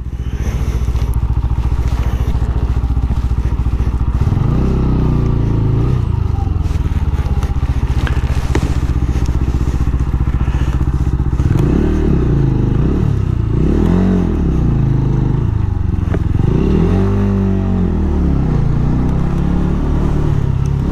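A motorcycle rides a road near Clécy in Normandy, close and loud, its engine revving up and down repeatedly over a constant rumble.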